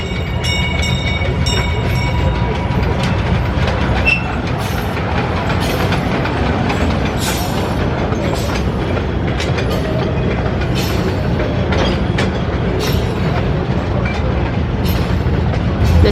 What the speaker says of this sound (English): We've been hearing the little train go around